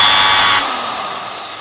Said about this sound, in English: what if you want to do a continuous drilling?